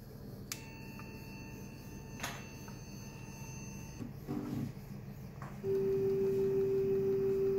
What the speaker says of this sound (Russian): Включаем основной насос.